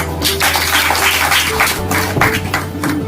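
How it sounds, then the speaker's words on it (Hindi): Applause from an audience at a DXN Reishi Gano tea presentation: a dense, steady clatter of clapping that runs the whole time, fairly loud, with a faint tonal hum beneath it. "जोरदार तालियां होना चाहिए"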